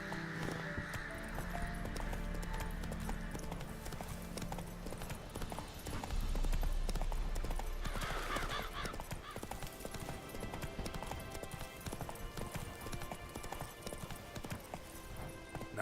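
Horse hooves clip-clopping in Witcher 3 on Skellige, a steady rhythmic trot of hoofbeats heard up close alongside game ambience, with a brief louder swell midway.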